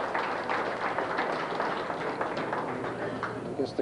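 Crowd applause after a carom billiards shot in a 1998 Carom Corner Tour match between Sang Lee and Semih Sayginer, a steady patter of clapping with murmured voices underneath.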